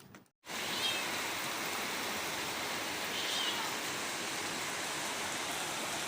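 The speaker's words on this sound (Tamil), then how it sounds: "மழை ஸ்டார்ட் ஆகிடுச்சு" Rain begins falling outdoors, a steady broadband wash of rainfall that starts abruptly after a brief pause and continues evenly and fairly loud with no speech.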